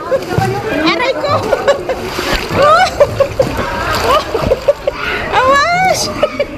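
Strong waves splash and slosh around a person wading in rough sea water, with repeated bursts of spray under excited, shouting talk close by.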